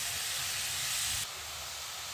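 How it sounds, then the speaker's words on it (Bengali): Spinach dropped into hot oil with fried garlic gives a loud, dense sizzling hiss that abruptly softens halfway through to a steadier, quieter fry. "এবার ছেড়ে দিচ্ছি পালং শাকগুলো"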